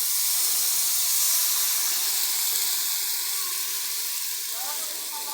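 Water poured into sizzling masala in a pan gives a loud, steady steamy hiss that fades slightly toward the end, with no talking over it.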